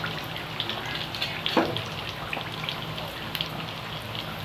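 Chicken feet frying in a pan of hot oil, a steady dense crackle and sizzle with scattered sharper pops, close and moderately loud, with no talking.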